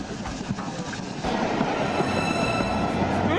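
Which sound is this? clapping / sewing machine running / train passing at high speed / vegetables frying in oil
train passing at high speed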